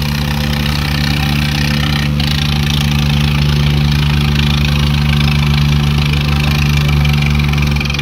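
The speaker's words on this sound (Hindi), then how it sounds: "लो भाई रेस देता, पूरी रेस देता कहते हैं." Swaraj and Mahindra tractor engines roaring at full throttle in a tug-of-war contest in Haryana, a loud, steady, continuous diesel drone with no break.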